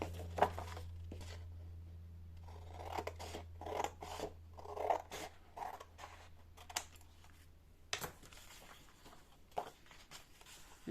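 Scissors snip white paper scraps in a quiet room, a series of crisp individual cuts with irregular pauses, some rustling of paper, and a low hum underneath.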